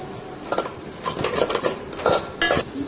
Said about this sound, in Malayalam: എന്നിട്ട് നന്നായിട്ട് തന്നെ ഇളക്കി കൊടുക്കുക.